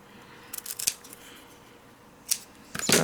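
Scissors snip a paper sentiment for a handmade card in a few quick, close cuts, coming in short clusters with quiet pauses between.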